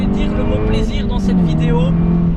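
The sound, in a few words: Volkswagen Polo 370 hp rally car accelerating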